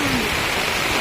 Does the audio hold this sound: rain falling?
yes